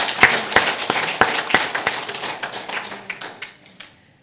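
Members of a church congregation applaud at a worship service, starting with a few sharp, distinct claps that blend into a looser patter and then fade away.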